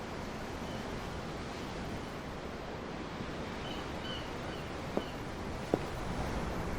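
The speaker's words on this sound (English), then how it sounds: "The ocean? Yeah. The waves. They help me think." Ocean waves wash steadily around a ship at sea in Tales of Arise, a constant soft surf and wind hiss, with two faint clicks near the end.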